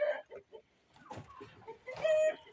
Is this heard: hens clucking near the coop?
yes